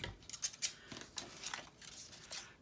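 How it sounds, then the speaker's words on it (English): Big scissors snipping through paper in a series of quick, irregular crisp cuts, close and fairly quiet, with no one speaking. "what you could do is find your big scissors"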